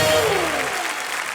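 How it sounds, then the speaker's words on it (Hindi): A studio audience on a comedy show bursts into loud applause, a brief dense wash of clapping that starts strong and slowly thins. "जोरदार तालियां गोविंदा सर के लिए।"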